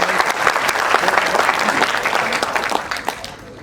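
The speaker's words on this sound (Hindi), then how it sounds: "एक बार मन कर रहा है तो तालियां बजा दीजिए आप।" Audience applause at a Hindi hasya kavi comedy-poetry show featuring a Haryana poet: dense, steady clapping from a large crowd that holds at full strength for nearly four seconds and eases only slightly at the end.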